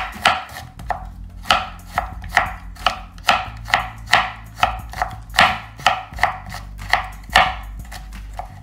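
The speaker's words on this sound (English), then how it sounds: "cut it into julienne or matchsticks" A kitchen knife cuts vegetables into julienne matchsticks for fresh lumpia, landing about fifteen firm, evenly spaced strikes on a cutting board, close and clear with nothing else heard.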